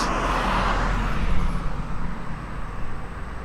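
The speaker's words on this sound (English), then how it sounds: "I hear a car coming, so I'm going to wait." A car approaches along a busy street, a steady broadband traffic rumble with low engine drone that swells slightly midway, heard at a crossing with no talk.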